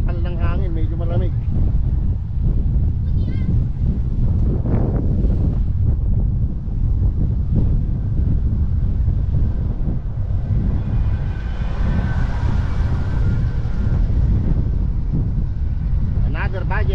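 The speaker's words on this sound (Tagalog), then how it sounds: "yung sampal ng hangin medyo malamig" Cold wind rushes hard against a moving cyclist, a loud, constant low roar of buffeting across the whole stretch, with a voice speaking briefly over it at the start and end.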